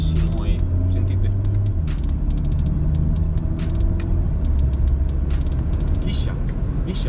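Volkswagen Golf GTD diesel with a Stage 2 tune at 240 hp, its engine droning steadily close up as the gearbox shifts, the pitch dropping and settling through the changes, with no break in the engine noise.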